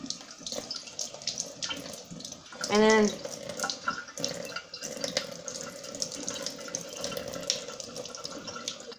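Water splashes and trickles steadily as wet goalkeeper gloves are squeezed over a sink, with a brief voice breaking in partway through.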